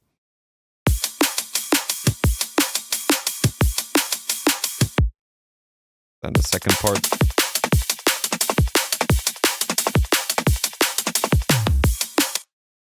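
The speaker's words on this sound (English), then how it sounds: "I'm going to just play you the drums itself on the drop" A punchy electronic drum loop plays in two sections of tight, driving hits, separated by a short pause where a voice briefly speaks.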